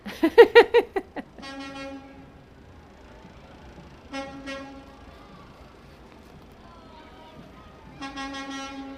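Vehicle horns toot at a Santa Claus parade in London: a quick flurry of short bursts opens, then three separate long horn blasts sound at intervals, with quieter parade noise between them.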